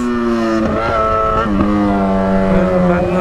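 A Yamaha XJ6 motorcycle with a worn, slipping clutch revs hard while pulling a wheelie, its engine note holding strong, close and loud, and rising in pitch with throttle blips throughout.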